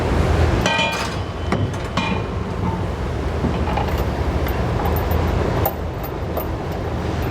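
Metal bolts and hardware clink while a Curt trailer hitch receiver is installed on a 2017 Chevrolet. Several sharp metallic taps and chinks stand out early, over a steady background roar like nearby traffic.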